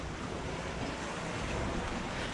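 Sea waves surge at high tide along a rocky shore near a cave, a steady, loud, close wash of surf mixed with gusting wind noise on the microphone.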